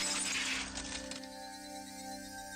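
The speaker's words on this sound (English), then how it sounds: "that glass breaking sound was" Glass shattering sound effect from the Higurashi visual novel, a loud crash with bright scattering shards in the first second, then a lingering ringing drone and tones as it fades out.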